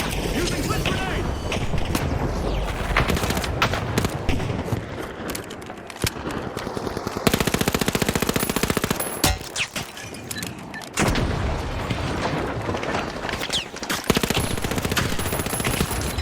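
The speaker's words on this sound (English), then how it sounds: "How the fuck are you shooting grenades exactly where I am?" Video game combat, with dense bursts of rapid gunfire and booming grenade explosions that come in loud, repeated volleys and brief pauses, all up close and continuous under intermittent talking.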